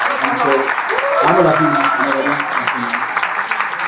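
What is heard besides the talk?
applause for the speaker's fiancée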